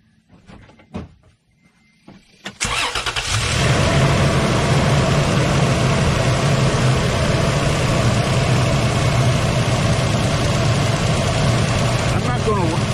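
A car engine starts about 2.5 seconds in and then idles steadily and loudly during a battery charging test, after a few faint clicks and thumps in near silence.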